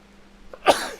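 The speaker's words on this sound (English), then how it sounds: "I had to sneeze" A single sneeze bursts out after a brief quiet lead-in, loud and close, followed by a short trailing breathy tail.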